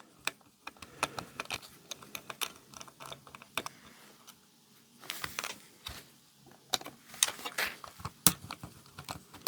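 Small screws are taken out of a Sega Game Gear handheld console with a bit driver, giving a series of close, quiet clicks, ticks and scrapes at an irregular pace with no talking.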